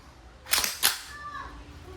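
A DPMS SBR airgun rifle by Panther Arms fires two sharp, close cracks about a third of a second apart, followed by a faint voice in the background.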